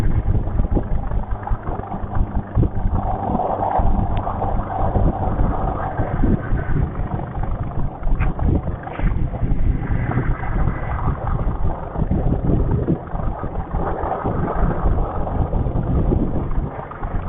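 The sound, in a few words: motorcycle with Byson carburetor riding at 50-60 km/h in third gear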